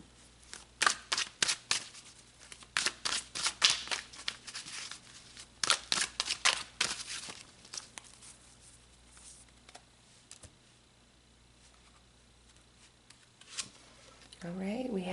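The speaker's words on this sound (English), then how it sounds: "So let's go back to shuffling the cards here" Tarot cards shuffled by hand, giving repeated crisp riffling bursts in quick clusters for about eight seconds, then fading into sparse soft taps and near-quiet.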